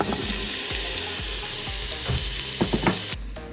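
Onions, minced garlic and vegetables sauté in an Instant Pot for chicken noodle soup, a loud close sizzle broken by a few scraping stirs before the sound drops away abruptly near the end.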